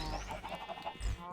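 Minecraft chickens cluck softly in quick, repeated short calls. The sound stays quiet and somewhat distant, with a low rumble and a faint rising tone in the background. No talking is heard.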